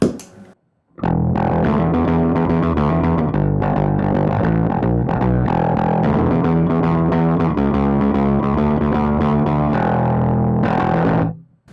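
An electric guitar through a distortion pedal with a driven, overdriven tone plays a continuous run of chords and notes, full and sustained, with no talking.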